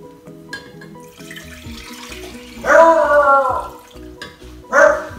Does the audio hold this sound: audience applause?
no